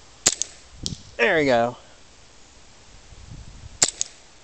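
Two sharp M9 pistol shots during an accuracy trial, one near the start and one near the end, with a faint snap between them; a brief voice speaks in the gap.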